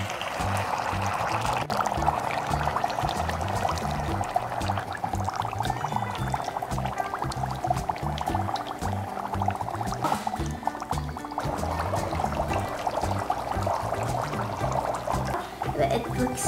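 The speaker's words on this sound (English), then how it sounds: "I'm going to be adding in hot water" Hot water poured from a teapot into a bowl of dry ice slime, a continuous bubbling, gurgling pour with fizzing and low churning that runs steadily throughout, fairly close and with no voices.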